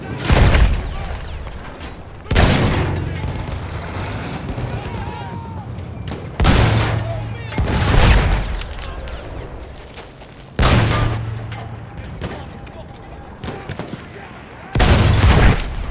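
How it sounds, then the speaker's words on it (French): Battlefield 1 combat with deep booms and bursts of gunfire recurring every few seconds, explosions rumbling loud and close over a constant battle din, voices speaking through it. "Ça va, mais mieux vaut éviter ces tirs."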